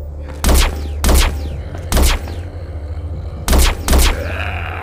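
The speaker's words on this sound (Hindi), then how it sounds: "इसको हेडशॉट देंगे बाकी ज़ॉम्बी को." Gunfire in The Walking Zombies 2 video game as zombies are shot in the head, five loud, sharp booming shots spaced about a second apart over a low constant background hum.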